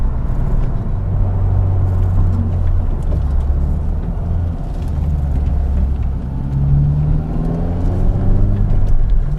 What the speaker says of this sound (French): avec ce nouveau moteur Honda VTEC Turbo, 310 chevaux, 400 Nm de couple